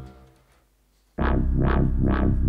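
Harmor synthesizer preset in FL Studio, used for dubstep: after a quiet low intro, a loud thick bass synth slams in with three rhythmic wobbling swells that open and close in brightness.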